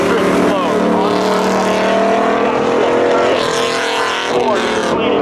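Drag racing cars, including a 1992 Chevy Camaro, launching off the line at Seekonk Speedway spectator drags, loud roaring engines revving and rising in pitch as they pull away, with an announcer talking over them.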